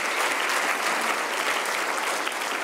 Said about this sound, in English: Everyone, please give Eric a round of applause for his dynamic presentation.